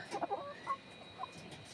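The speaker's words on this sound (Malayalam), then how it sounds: "എൻ്റെ കോഴിപ്പിള്ളേരെയൊക്കെ കണ്ടോ" Young backyard chickens cluck softly in short, scattered bursts, a few close calls followed by fainter ones against a quiet background.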